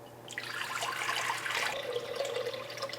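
Water pours steadily into a bowl for sourdough bread dough, a soft splashing rush that deepens slightly as it fills, close by and fairly quiet.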